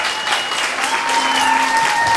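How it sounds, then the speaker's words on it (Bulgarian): Wedding guests at a family celebration clap vigorously throughout, a dense, sustained round of applause with faint music tones underneath. "Искам да чуя вашите бурни аплодисменти за семейство Боневи."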